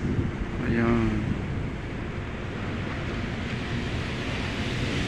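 Sea waves wash along a Manila Bay beach with a steady rumbling surf and wind buffeting the microphone, while a voice speaks briefly near the start.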